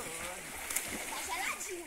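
Splashing in cold river water as someone flips in, a short churn of splatter and water movement close by, with people talking and calling out over it.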